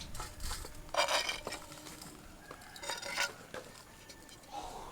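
Ground sabudana and peanut powder being mixed by hand in a bowl, giving soft scraping and stirring with a few brief clinks and rustles, fairly quiet and close, with no voices.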